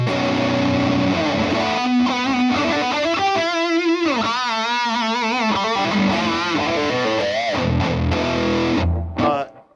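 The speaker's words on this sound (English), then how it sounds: "one of our favorites here in Circle R Ranch is the Wonder Red Rider pedal" An electric guitar played through a Wonder Red Rider overdrive pedal, distorted chords and sustained wavering notes ringing out continuously before cutting off at the end.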